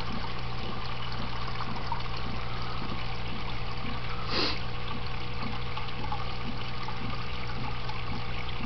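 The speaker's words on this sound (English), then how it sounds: "So there's water coming into the first tank." Thin steady trickle of water from a small pump pouring into the first tank of a desktop aquaponics setup, faint and continuous over a low electrical hum, with one brief louder splash.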